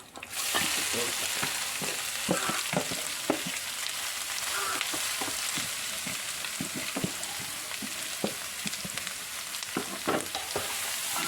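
Cabbage for thoran frying in a pan with steady hissing sizzle and repeated scraping stirs of a spatula throughout, close and continuous with no talk.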